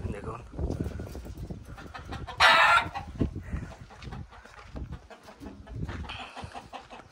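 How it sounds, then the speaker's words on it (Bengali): Chickens cluck on a farm in Saudi Arabia with pigeons nearby, with soft intermittent clucks and one louder squawking burst mid-clip, mixed with low background activity and occasional voices. "এখানে মুরগি আছে, ওই উপরে কবুতর।"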